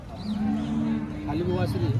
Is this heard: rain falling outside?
no